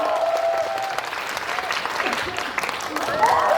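A cinema audience at CGV Yeongdeungpo applauds as a film's director and actors enter for a stage greeting, a sustained crowd of hands clapping with excited voices and calls rising over it.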